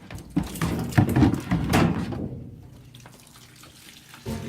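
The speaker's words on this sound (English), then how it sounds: "yeah, water's coming out now." Dirty water gushing from a washing machine drain hose lowered toward the floor during a suspected pump failure, a splashing, running pour with clattering handling noises, fading to a quieter trickle near the end.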